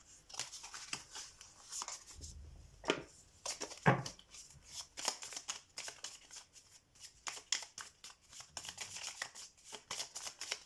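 A deck of oracle cards is shuffled by hand in quick papery riffles and slaps that come in irregular bursts with short pauses, soft and close in a quiet room.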